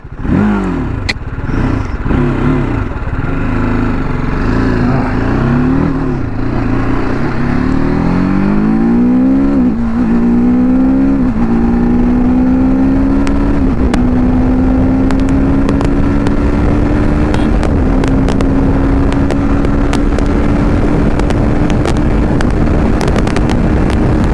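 A TVS Apache RTR 310 motorcycle engine runs loud and close, idling with uneven throttle blips, then revving in rising steps into a sustained climbing whine that settles into a high steady drone, with wind buffeting the microphone.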